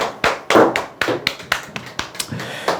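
Applause from a small group at a seminar for insurance telemarketing staff: a couple of dozen sharp, separate claps in an uneven rhythm, close and fairly loud, with no voices over them.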